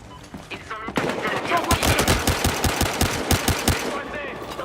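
Rapid heavy pistol fire in a Battlefield Hardline multiplayer match, a fast string of loud, close sharp shots over dense game noise after a quieter opening second.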